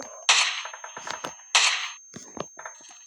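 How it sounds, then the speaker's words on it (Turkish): Unscoped gunshots in a first-person shooter video game, two sharp, loud cracks a little over a second apart, each followed by clicks and smaller rattling game sounds. "Dürbünsüz vuruyorum adamı ya."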